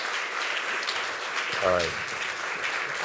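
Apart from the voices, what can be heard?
audience applause for Bob Knakal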